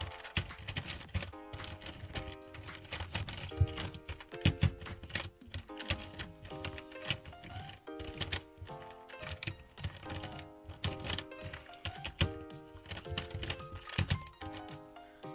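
A Rubik's cube being scrambled by hand, a fast, dense run of close plastic clicks and clacks that keeps going without a break.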